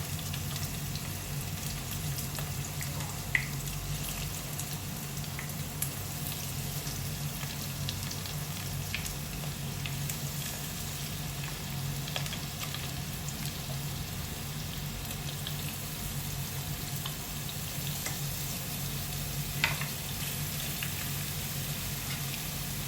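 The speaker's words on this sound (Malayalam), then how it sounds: "അപ്പോൾ പന്നി നമ്മൾ പതിയെ ഇട്ട് കൊടുക്കുകയാണ്. കാരണം നമ്മൾ ഇടുമ്പോൾ എണ്ണ തിളച്ചിരിക്കുന്നതായതുകൊണ്ട്" Pork pieces frying in hot, already-boiling oil for an Angamaly-style pork roast, a steady dense sizzle and crackle running evenly throughout, close and continuous with no talking.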